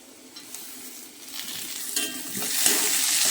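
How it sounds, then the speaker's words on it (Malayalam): Tomato tossed into a pan of sizzling onions and green chillies, a steady close frying hiss that swells louder toward the end, with a few soft stirring clatters. "ഇനി നമുക്ക് ഈ മുഴുത്ത തക്കാളിയാണ് ഇട്ട് കൊടുക്കുന്നത്."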